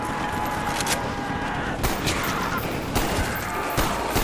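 Gunfire from a weak, pea-shooter-like gun in a video game, a run of fairly steady shots with a few louder bursts standing out over constant game noise.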